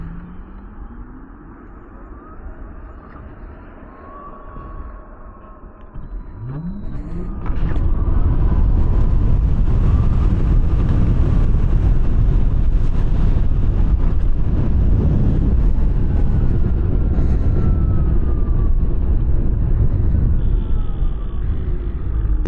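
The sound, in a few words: Verge TS Pro electric motorbike launching in beast mode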